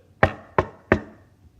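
A chauffeur knocks on a house door: three sharp, evenly spaced raps, close and clear, each ringing briefly before fading, with no other sound around them.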